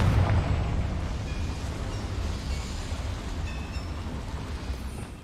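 A Confringo fire spell cast in Hogwarts Legacy, heard as a loud, sustained rumbling blast with heavy low roar that tails off slowly over several seconds inside a mine.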